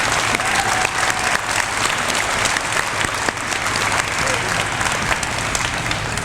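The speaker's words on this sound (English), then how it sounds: "Please give them a round of applause." Dense, steady applause from an audience at a senior awards program, loud and sustained throughout with no letup.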